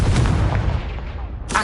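A Confringo spell blast in a Harry Potter video game, a heavy booming explosion that rumbles and decays over about a second, followed by a sharp burst at the end.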